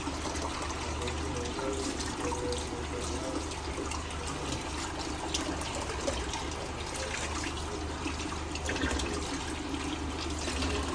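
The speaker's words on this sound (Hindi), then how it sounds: "टैप स्लो खोलते हैं बेटा" Tap water runs in a steady, full stream from start to finish, a dense continuous splashing with no pauses and only slight variation in loudness.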